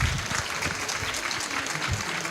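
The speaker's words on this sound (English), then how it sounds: "another round of applause for Senator Ed Markey." An audience claps loudly and continuously, a dense, even burst of applause.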